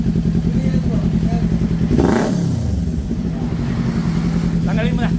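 Kawasaki Ninja 400 (2024) motorcycle with a red Akrapovic exhaust, idling close with a steady, lumpy throb and one sharp rev in the middle, while people talk over it.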